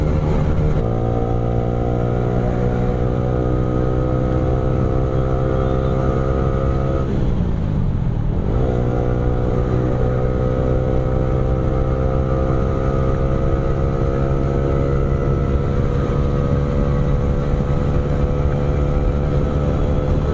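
A Yamaha R15 motorcycle engine drones loudly and steadily under held throttle on an Independence Day highway ride, its pitch dipping briefly near the middle before climbing back to a sustained high whine, with constant wind rush.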